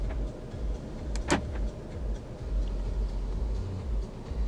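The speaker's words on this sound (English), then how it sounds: "Central locking." Central locking on a 2018 Audi S3 saloon 2.0 TFSI quattro: a single sharp mechanical clunk of the door locks inside the cabin, over a steady low idle hum.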